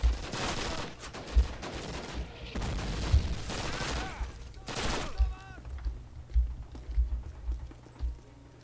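Gunfire in the Call of Duty video game, several bursts of rapid automatic shots fired close and loud, separated by short pauses and followed by scattered quieter clicks and impacts.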